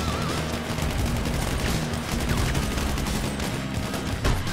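Rapid bursts of gunfire from the GTA 5 Online video game, dense and continuous over a steady game soundscape, with a sharper crack near the end.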